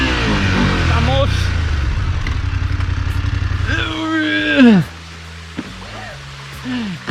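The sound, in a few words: motorcycle engine revving on steep mountain track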